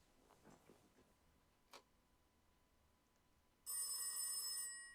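A telephone rings once in the game This Is The Police, a loud bright electronic trill lasting about a second after a quiet stretch with faint ticks and a single short click.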